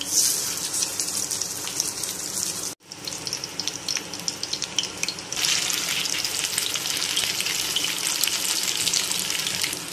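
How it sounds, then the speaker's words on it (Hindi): Chapli kababs topped with tomato slices fry tomato side down in hot oil, making a loud steady sizzle with a short break before a fresh burst of crackling as another kabab goes in; no voices. "अब हम टमाटर वाली साइड नीचे रखेंगे और इसको फ्राई कर लेंगे।"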